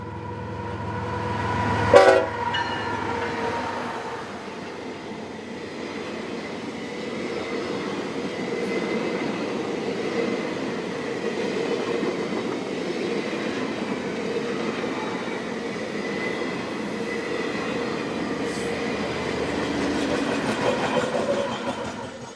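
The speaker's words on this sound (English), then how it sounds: "we got one last run-by as the special headed back to Barstow with a new trainload" A special passenger train rolls past on its way back to Barstow, a steady rumble of wheels and cars sustained at moderate distance, opened by a brief sharp knock and holding an even roar throughout.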